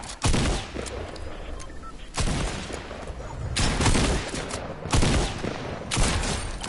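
Rapid bursts of automatic gunfire and sharp shots from a first-person shooter video game crack out repeatedly in clustered volleys, loud and close, with faint voices underneath.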